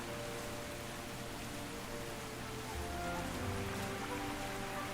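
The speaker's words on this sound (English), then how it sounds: "The rain seems loud enough" Steady rain falls in the video game Tales of the Shire, a soft, constant hiss of drops on surfaces with low music humming faintly beneath it.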